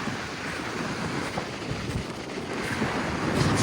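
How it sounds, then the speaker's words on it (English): Ocean surf washes onto a beach at Anastasia State Park, heard as a continuous broadband roar of breaking waves mixed with wind buffeting the microphone, with the rush swelling slightly toward the end. "Look at that surf."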